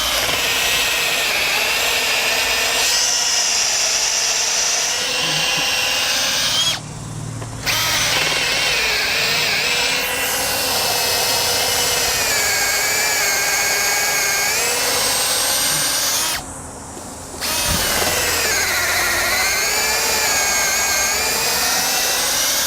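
A Makita drill running in low gear whines loudly and steadily for long stretches, its pitch wavering under load, with two short pauses where the motor cuts out before spinning back up.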